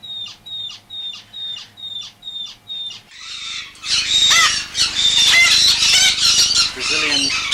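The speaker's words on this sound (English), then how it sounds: "these are two Brazilian orchided parrots" A bred pair of Brazilian orchid parrots squawks up close. A regular run of about eight short, evenly spaced squawks gives way to a louder, denser burst of harsh overlapping calls.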